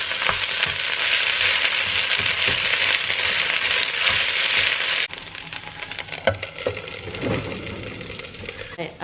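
Food sizzling in a frying pan at a steady loud hiss, then a lid goes on and the sound drops to a muffled sizzle with scattered clinks and scrapes, close by.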